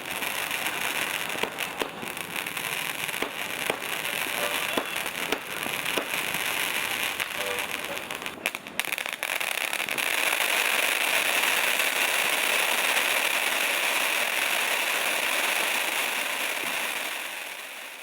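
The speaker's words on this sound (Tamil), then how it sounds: "இரவு கொண்டாட்டமாக வான வேடிக்கை வகைகளை சென்னை மக்கள் வெடித்து மகிழ்ந்தனர்" Fireworks burst and crackle continuously, with sharp bangs early on giving way to a dense, sustained fizzing roar.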